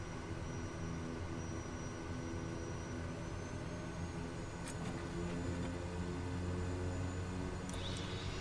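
The turboprop engine of a Kodiak 100 drones steadily in Microsoft Flight Simulator during a short takeoff in Papua New Guinea. The tone is loud and even and holds throughout, with a couple of faint clicks on top.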